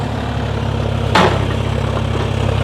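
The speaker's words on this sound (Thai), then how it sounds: "เป็นเครื่องยนต์ตัวนี้เครื่องยนต์คูปต้าเครื่องดีเซล สามสูบ" A small excavator's Kubota three-cylinder diesel engine idles steadily with a low, even rumble and a brief louder burst partway through, no voices.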